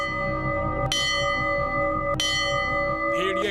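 A bell strikes twice with long, ringing tones that hang and decay under steady loud background noise, as part of sounds broadcast toward a South Korean border village.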